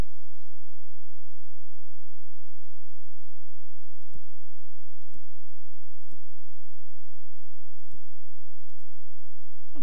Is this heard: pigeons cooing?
no